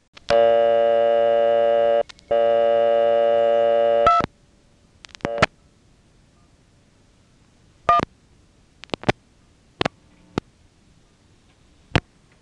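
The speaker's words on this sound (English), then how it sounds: "This time it returned my quarter, and then it sort of ticked, and we heard nothing but silence" An old payphone in Nantes, Quebec gives a steady buzzing tone with a short break, followed by a clunk as the quarter drops back. After that come a few sparse, isolated ticks separated by near silence.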